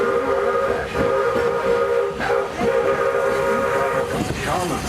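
Walt Disney World Railroad steam train at the Magic Kingdom, a steady rumbling locomotive with a sustained steam whistle tone running throughout, close and loud, with rhythmic chuffing and clanking underneath.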